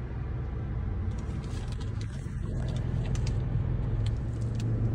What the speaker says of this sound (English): There comes the truck finally.